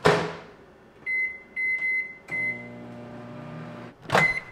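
A microwave oven hums steadily in a quiet kitchen, its run broken by several short electronic beep tones, with a final beep near the end after the motor stops.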